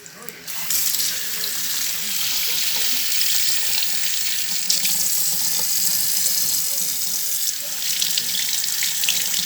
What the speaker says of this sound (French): je lave mes mains à chaque fois que je travaille